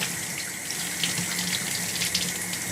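A wind instrument mouthpiece and head joint rinsed under a running tap, with a steady close splash of water into the sink throughout and no voices.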